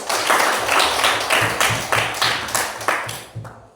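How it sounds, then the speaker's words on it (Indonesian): A classroom of students claps together in a steady, even rhythm for a presenting group, each beat crisp and close, about three per second, before the clapping stops abruptly. "Untuk itu kita berikan tepuk tangan untuk kelompok ketiga."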